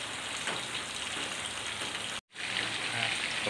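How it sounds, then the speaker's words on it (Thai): Dense, steady patter of rain falling on a surface, with a brief dropout midway before the downpour continues. "โอเคครับนี่คือฝน"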